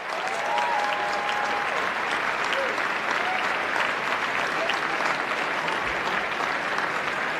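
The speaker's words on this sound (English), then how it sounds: "please join us in giving a round of applause for the 2019 scholarship winners" A dinner crowd at the 2019 White House Correspondents' Dinner applauds continuously, dense clapping sustained at even loudness for several seconds, with faint voices mixed in.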